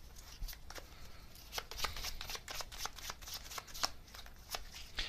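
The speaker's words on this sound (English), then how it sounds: "so let me get another card here" A tarot deck is handled and shuffled before a card is drawn, making quiet, rapid papery flicks and riffles in short irregular bursts close by.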